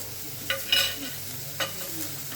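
Chopped ingredients fry gently in a pan on low heat for a butternut soup, with a soft steady sizzle and a few brief stirring scrapes close by.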